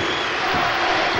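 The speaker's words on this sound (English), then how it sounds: "the crowd is chanting ISU" Basketball arena crowd at an SIU vs ISU game chanting ISU, a loud, dense, continuous roar of many voices filling the space with little variation.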